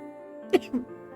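A single quick sneeze, short and sharp, followed by a smaller burst, against a faint steady hum.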